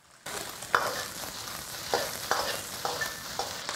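Whole spices stir-fried with beef brisket in a wok, a soft continuous sizzle with several sharp spatula scrapes and clacks against the metal at irregular intervals, fairly quiet and without speech.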